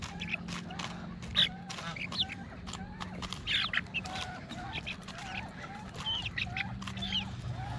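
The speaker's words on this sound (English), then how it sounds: "What's that duck doing down there?" Duck quacks and cackling fowl calls repeat irregularly outdoors, close and moderately loud, over a steady low hum of background noise.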